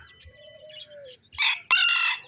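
A bantam rooster crows loudly and close by, one strong drawn-out cock-a-doodle-doo after a few softer clucks and calls, with no talking.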